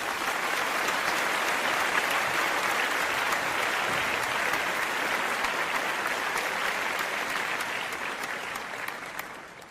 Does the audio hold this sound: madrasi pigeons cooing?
no